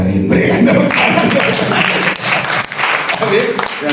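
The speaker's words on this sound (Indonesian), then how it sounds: "Berikan tepuk tangan." A church congregation claps during a sermon, loud uneven applause with individual hand claps standing out, while voices and talk continue over and around it.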